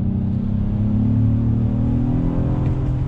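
A 2020 Acura MDX A-Spec SUV engine revs up under throttle, a loud steady rumble with rising pitch, close and continuous with no talking.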